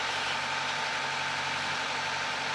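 A sailboat's engine running steadily while motoring for hours through calm water: a constant mid-pitched drone with an even hum, moderately loud and unchanging, with no voices.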